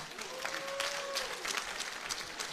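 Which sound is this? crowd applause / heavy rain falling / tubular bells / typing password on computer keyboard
crowd applause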